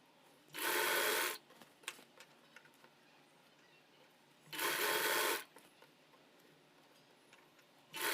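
A sewing machine set to ordinary blouse stitching runs thread piping in two loud, steady bursts about a second long each, separated by quiet pauses with faint handling clicks, and a third burst begins at the end.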